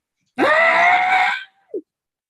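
A person imitates a goat's yell with one loud, sustained, bleating cry lasting about a second, then a short trailing grunt, close and alone.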